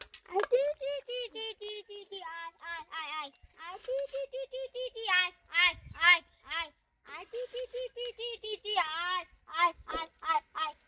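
A woman imitates the calls village women use to feed chickens, a rapid run of high, bird-like chattering and clucking sounds from a close voice, delivered in bursts with short pauses between them.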